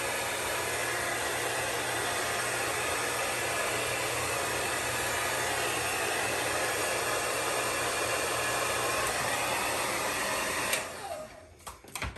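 A blow dryer runs on its cool setting for beard styling, a loud, steady close-up whoosh of rushing air that holds for about ten seconds before cutting off abruptly, with no talking.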